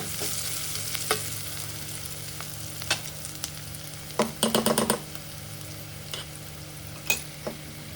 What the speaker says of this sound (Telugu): కొద్దిగా పసుపు వేసి కొద్దిగా దగ్గరికి వేగనివ్వాలి.